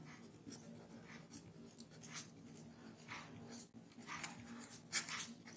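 Marker scratching out notes on a board during a math lesson, a string of short, faint scribbling strokes in bursts with pauses in between, no talk.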